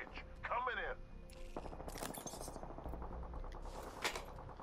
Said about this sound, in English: Gunshots to the south